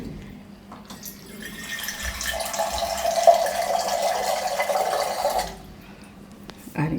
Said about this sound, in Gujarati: તો હજી થોડુંક નાખીશું આપણે પાણી એમાં.